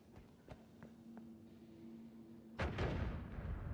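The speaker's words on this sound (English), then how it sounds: "Oh, that's a bomb." A bomb goes off in the video game Noita, a sudden loud burst near the end followed by a rumbling, crackling tail, after a few faint clicks and a low sustained tone.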